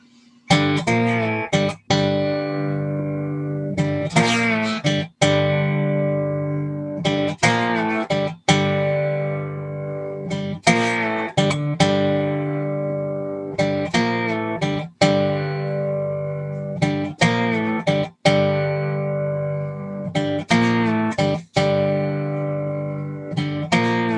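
A three-note slide guitar riff plays alone, its ringing, harmonic-rich notes repeating in steady phrases with brief breaks between them.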